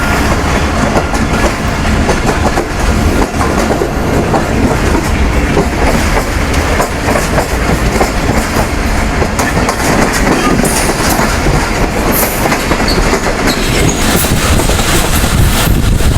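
A passenger train runs toward Okara station in a steady, loud rumble with continuous rhythmic clickety-clack of wheels over rail joints, heard from on board with no talk.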